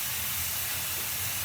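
Burger patties for a barbecue bacon pineapple burger cook on a hot griddle, giving a steady, even sizzling hiss that holds at a constant level without any talk.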